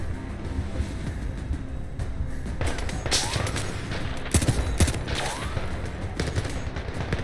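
Gunfire in the Zero Caliber VR shooter game, a series of sharp shots in irregular bursts over constant background noise, a couple landing in quick succession near the middle.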